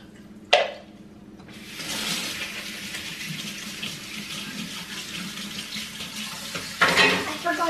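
Hot water runs from a kitchen tap while washing up, a steady hissing gush that starts after a brief clatter and continues, with another knock of dishes near the end.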